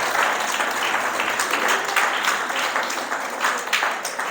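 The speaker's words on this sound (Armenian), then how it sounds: "ծափարեցիք մեր քրոջը" Church congregation applauding a sister, a steady wash of many hands clapping at moderate distance, sustained evenly throughout with no voices standing out.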